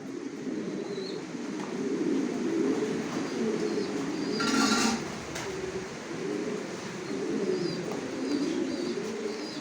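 Racing pigeons in a multi-storey loft coo in repeated low, throaty rolls, several birds overlapping in a steady nearby chorus with a brief rustle partway through.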